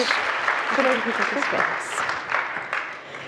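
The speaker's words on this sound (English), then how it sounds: "Everyone, please give her a massive round of applause." Audience applause at a startup competition grand final, a steady wash of clapping with some voices mixed in, fading slightly over a few seconds.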